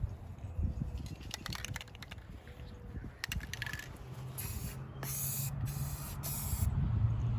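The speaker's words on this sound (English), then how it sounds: "I'm going to start using the spray paint." Short spray paint bursts hiss from a can, growing into longer, steadier sprays toward the end, with faint tapping and handling noises earlier, during hydro dipping preparation.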